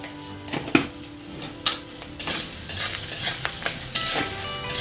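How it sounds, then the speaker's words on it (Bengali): Spices with a spoonful of salt and turmeric powder fry in a pan for a Bengali cabbage ghonto, giving a steady sizzle broken by repeated scraping stirs and light clinks of the spoon, close and alone with no talking. "এক চামচ হলুদ গুঁড়ো দিয়ে আমি এই মশলাটাকে একটু ভালো করে ভেজে নেব"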